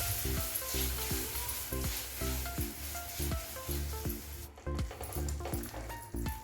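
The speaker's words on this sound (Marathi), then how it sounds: "ही साखर विरघळेपर्यंत आपल्याला हलवून घ्यायचं आहे" Sugar and freshly grated wet coconut are stirred in a pan to make coconut burfi, a soft sizzle under a steady run of rhythmic scraping strokes, close and moderately loud, with no talking.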